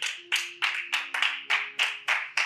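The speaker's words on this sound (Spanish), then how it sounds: "Puedes darle un aplauso fuerte al Padre." A congregation applauds during a church service, heard as a steady series of about nine sharp, evenly spaced clap bursts with a faint sustained tone underneath.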